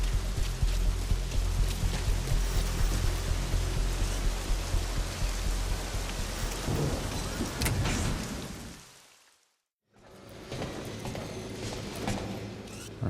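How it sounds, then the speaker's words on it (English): Steady rain pours across an open offshore base platform in Metal Gear Solid V, a dense continuous hiss with scattered taps, then fading into a brief silence before resuming more quietly. "like it's started to rain"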